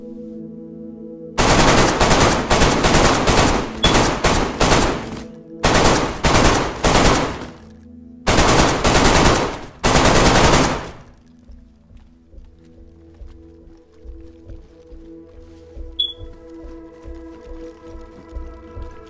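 Heavy, loud automatic gunfire hammers at a base frame in DayZ in several long sustained bursts separated by brief pauses, then gives way to quieter scattered movement sounds.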